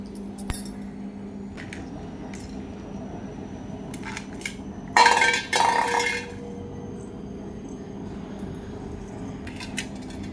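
A small child plays at pouring puffed rice from one bowl into another, giving a short rattling burst of grains and light clinks of the bowls amid quiet room tone, close and brief, with no talking.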